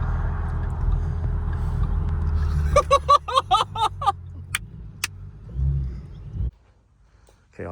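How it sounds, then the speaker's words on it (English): Supercharged 2014 Ford Mustang with a 3.7L V6 idles at close range. A burst of sharp blips follows, each release answered by a quick diverter valve whoosh, then two higher chirps, and the engine settles and cuts off. "Do you hear the diverter valve?"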